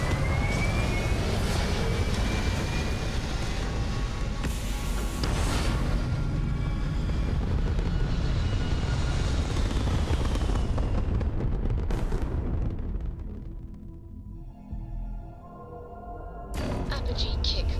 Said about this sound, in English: Liftoff looks good.